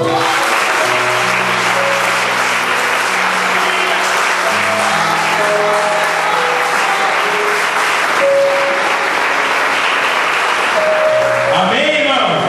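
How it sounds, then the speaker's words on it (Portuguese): A church congregation applauds during a worship service, sustained loud clapping from the crowd with organ or keyboard tones held beneath it throughout. "Quem pode aplaudir o Senhor?"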